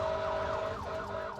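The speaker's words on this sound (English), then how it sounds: "riding in a fire truck going at breakneck speed with all the sirens wailing at full blast" Fire truck sirens wail at full blast in a rising and falling sweep, loud and continuous over a low rumble of road noise, with no voices.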